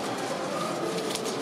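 Pigeons at a pigeon show in Wrocław coo softly beneath a dense, steady wash of hall noise and murmuring from many birds.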